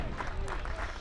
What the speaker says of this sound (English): again you hear the crowd trying to help Trace Baker here to get this out